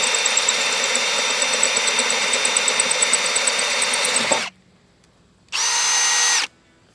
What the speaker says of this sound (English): it's going down like a regular drill would be expected to